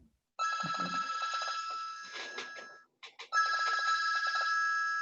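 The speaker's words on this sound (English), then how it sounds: "That's my phone." A telephone rings during a town council meeting: a loud electronic ringtone sounds in repeated bursts, with a short break near the middle before ringing resumes, and no one speaks over it.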